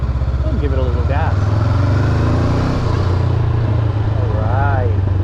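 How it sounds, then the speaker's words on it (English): A Honda 500 motorcycle on a test ride rumbles with a steady, close engine note that swells slightly as it gets gas, while a rider talks over it. "Turn it downshift a second, give this car in front of us some room, and give it a little gas."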